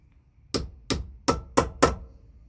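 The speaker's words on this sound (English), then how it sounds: "This is called a roll pin punch." Five sharp metallic hammer strikes on a roll pin punch while assembling levers on a 1977 Yamaha GT80 motorcycle, spaced about a third of a second apart, close and crisp against a quiet background.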